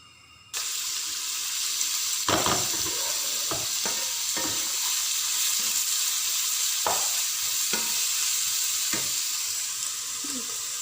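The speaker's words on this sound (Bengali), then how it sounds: "পেঁয়াজটাকে আমি হালকা লাল লাল করে ভেজে নেব।" Three large chopped onions frying with bay leaves in a pan, giving a steady loud sizzle that starts abruptly and runs throughout, with several sharp scrapes and knocks as the onions are stirred.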